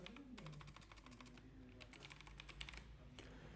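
Quick keystrokes on a computer keyboard as an email address is typed, a soft, irregular run of close clicks, fairly faint, with no talking.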